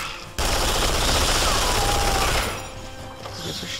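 Sustained rapid automatic gunfire rattles loud and close during a Duke Nukem Forever alien hive level, a steady burst for about two seconds that then fades into quieter game ambience.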